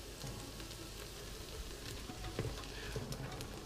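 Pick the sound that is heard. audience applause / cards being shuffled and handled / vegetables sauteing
vegetables sauteing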